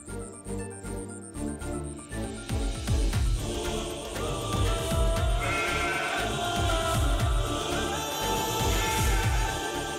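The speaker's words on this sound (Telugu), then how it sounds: "రేయ్, అది మేక శబ్దంలా ఉంది." A goat bleats repeatedly amid a dense, loud backdrop of dramatic music in an action film scene, the calls partly blended into the mix.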